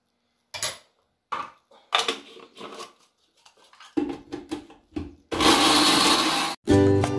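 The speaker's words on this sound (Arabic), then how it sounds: "غناخذ شويه ديال اللوز، ناخذ غير القياس نقدروا نطحنوه ونزيد معاه السكر" Scattered clinks and clatter of kitchen utensils come first, then a loud electric blender grinds fried almonds with sugar in a long burst, stops briefly and starts again.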